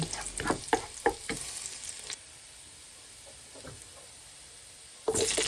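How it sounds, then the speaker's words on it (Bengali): Chopped garlic hitting hot oil in a pan for chilli chicken, a burst of sizzling and quick spatula taps at first, then a faint steady frying hiss, and a louder crackle returning at the end. "প্যানে তেল দিয়ে দিলাম পরিমাণ মতো রসুন কুচি দিয়ে দিলাম"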